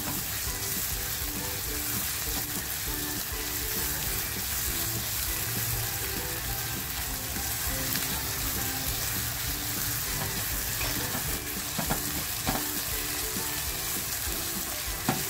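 Crushed garlic and chilli fry in a pan for a home-style oyster masala, making a dense, loud, continuous sizzle with a few faint clinks over the top and no voices.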